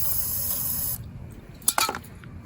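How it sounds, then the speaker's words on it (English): A loud, steady aerosol spray hisses for about a second into the engine of an ETQ portable generator, then cuts off, followed by a few short clunks and rattles. "Give it a spray."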